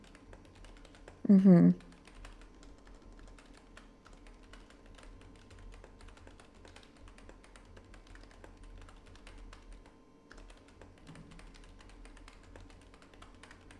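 Someone types notes on a computer keyboard during a meeting. Soft, quiet key clicks run steadily throughout, with one short murmur from a voice early on.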